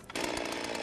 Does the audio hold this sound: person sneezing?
no